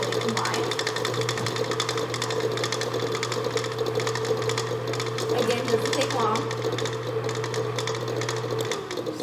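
An electric mixer whirs steadily and close while mixing chocolate crinkle cookie dough with egg, the motor hum running continuously underneath a person talking.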